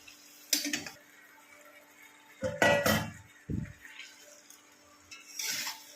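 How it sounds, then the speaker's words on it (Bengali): Fried potatoes and a fish head go into a cooking pot in a home kitchen: a few separate clanks and scrapes of utensils against metal, with short thuds and quiet pauses between them. "এখন আমি এর মধ্যে ভেজে রাখা আলু আর মাছের মাথাটা দিয়ে দেবো।"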